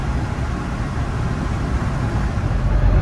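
Land Rover Defender Td5 with a swapped LT230 transfer case cruising on a highway, a steady broadband road and engine drone with tire rumble, continuous and even with no talk.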